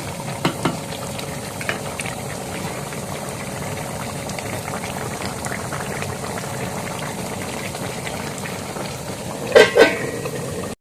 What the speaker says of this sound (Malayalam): നന്നായിട്ട് തിളച്ച് വെന്ത് വരണുണ്ട് ഇനി ഒന്ന് ഇളക്കിയിട്ട് അടച്ചിടാം